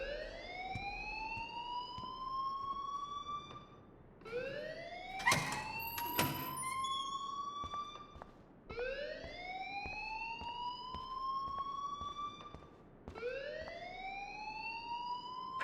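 A school fire alarm in the video game Life Is Strange whoops in four rising electronic sweeps, each lasting a few seconds, with a brief clatter partway through.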